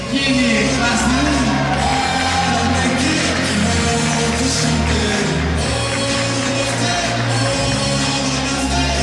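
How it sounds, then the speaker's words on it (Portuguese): Audience at a 2023 bikini fitness championship cheers and applauds the Class 1 athletes (up to 1.62 m): a dense, loud, continuous wash of crowd noise and shouts over steady background music throughout. "vamos aplaudir nossas atletas biquíni classe 1"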